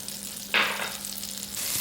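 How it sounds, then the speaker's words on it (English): Butter sizzles in a hot pan over medium-high heat for an omelet, a steady close crackling hiss that flares louder for a moment, with no talking. "once that is sizzling and just starting to brown"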